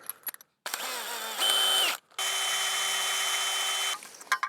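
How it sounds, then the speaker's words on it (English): A power drill whirs in several bursts while drilling holes for a farm gate latch, its motor pitch rising under load, with short pauses between runs; close and fairly loud. "We're going to drill out those couple holes there."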